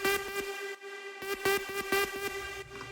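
A bright, sustained trance synth lead tone holding one pitch, overlaid with rhythmic plucked stabs and percussive hits in a driving electronic pattern.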